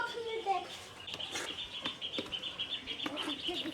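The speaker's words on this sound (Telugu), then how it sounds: "కోడి పిల్లలు" Baby chicks peep in quick, thin, high chirps, repeated in a steady string at close range, with people talking alongside.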